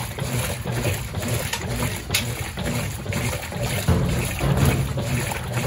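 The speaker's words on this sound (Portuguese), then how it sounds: "O enxágue dela é bem vagabundo, é bem rápido mesmo." A Brastemp BWL09A washing machine runs a quick rinse cycle on light clothes. Water sloshes and churns steadily and close by, with faint splashing and no voices.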